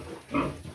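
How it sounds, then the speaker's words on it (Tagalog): A sow on a farm gives one short, close grunt, loud over faint background noise. "Yan yung inahing baboy"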